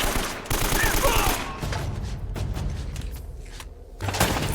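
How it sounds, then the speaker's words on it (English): Rapid video game gunfire crackles in bursts of shots, loud and close, with brief pauses and a final cluster near the end. "I'm missing every shot, but I got a headshot right there at least."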